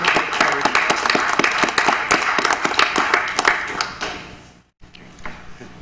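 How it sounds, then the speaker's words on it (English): Dense, loud clapping from a room of people at a City of Cambridge General Committee meeting in honour of Ken, steady for about four seconds before tapering off into a brief silence and a few scattered claps. "let's give Ken a round of applause"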